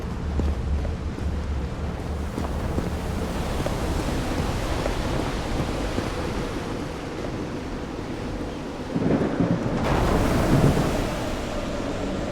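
A thunderstorm with rain in the video game Call of the Sea, heard as a dense, steady roar of rain and wind by the sea that swells louder near the end, with no talking.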